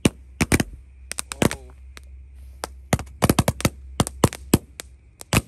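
Roman candles, rockets and firecrackers go off at night in sharp, irregular bangs and crackles, some in rapid bursts like gunfire, with a whistling rise in between. A faint low hum runs underneath throughout.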